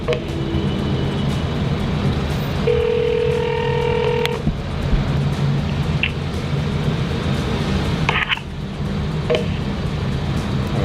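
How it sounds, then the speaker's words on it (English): Telephone line tones after a call is hung up: a steady, loud line hum with a brief tone and short electronic beeps, heard alone. "so they just keep picking up and hanging the phone up on me?"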